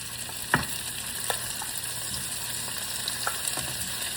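Shrimp and squid sizzle and fry in a pan for seafood pasta, a steady crackle with a few sharper pops and stirring clatters, close and alone.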